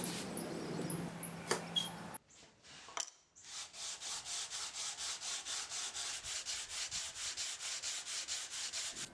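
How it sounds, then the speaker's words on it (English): A Wharncliffe knife handle scale is rubbed flat on a strip of sandpaper stuck to plywood, giving a close, steady run of rhythmic back-and-forth rasping strokes after a few brief scrapes and a short pause. "using a strip of sandpaper stuck to some plywood to flatten each piece"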